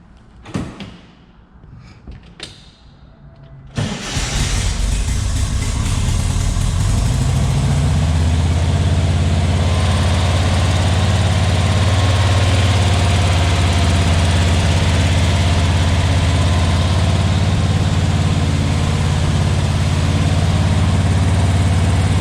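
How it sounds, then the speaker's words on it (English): A restored 1956 Porsche 356 Speedster, started from outside the cockpit: a few clicks and a door sound, then the engine catches and settles into a loud, steady, throbbing idle that continues alone. "So I'm going to start the car from outside the cockpit"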